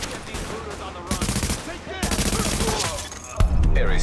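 Bursts of gunfire ring out in a firefight against looters in Tom Clancy's The Division, rapid shots clustering in short volleys with a heavier blast near the end, over a game soundscape with a voice talking at times.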